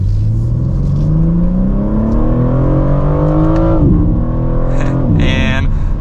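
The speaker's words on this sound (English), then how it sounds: "let's give it one more acceleration for today's video" A 2024 BMW M4 Competition Convertible accelerates hard, its exhaust note climbing steadily through the revs up to a sharp gear change, then pulling again before a second shift, loud and close from inside the car.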